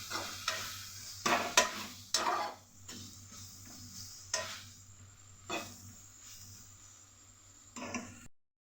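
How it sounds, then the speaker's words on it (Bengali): Water spinach with onion and chilli being stir-fried in a pan, with a soft sizzle under irregular scraping and stirring strokes that come close and clear, then trail off, with no talking. "ভালো করে মিলিয়ে ভেজে নেব।"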